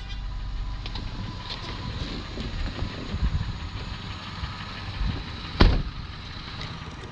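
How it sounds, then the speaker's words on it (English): 1999 Ford F250 4x4 with a 5.4 liter V8 idling, a quiet, steady low rumble heard close up, with a brief louder bump near the end. "Listening to the truck run, you'll notice that it's very quiet, especially for a big V8 of its size."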